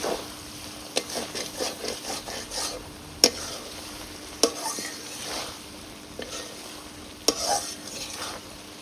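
Food is stirred and fried in a pan while cooking in a village, with a soft continuous sizzle and a few sharp spatula scrapes and knocks against the pan.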